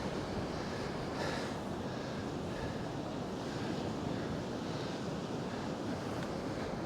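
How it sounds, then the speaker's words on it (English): Steady wind roaring on a sea shore during a fishing session, with surf washing continuously underneath, loud and unbroken throughout with no voices. "they did forecast that wind getting up a little bit"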